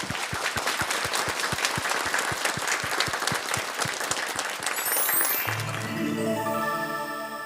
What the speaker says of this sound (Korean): 뜨거운 박수 부탁드리겠습니다.